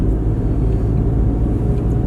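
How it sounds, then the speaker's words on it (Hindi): Steady road traffic rumbles through the Bandipur forest area in Karnataka, India, a loud, continuous low drone of passing vehicles with no breaks. "और ऊपर से यहाँ पे ट्रैफिक भी ज़्यादा है"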